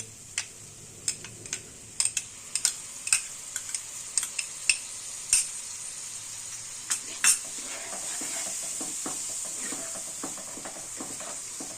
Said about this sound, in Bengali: খুব ভালো করে মশলাটা কষতে হবে দইটা যেন ভালো করে এর সঙ্গে মিশে যায়